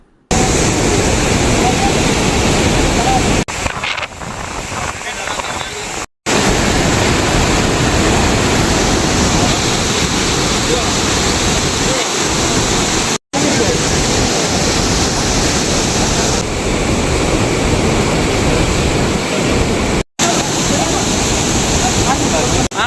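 Flood water released from a barrage on the Penna river rushes downstream in a loud, steady, broadband roar that fills the whole stretch, broken only by brief cuts.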